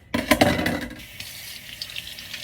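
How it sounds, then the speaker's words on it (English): Kitchen tap running while hands are washed at the sink, a steady close rush of water that starts with a splashy gush and settles into an even flow. "let me wash my hands"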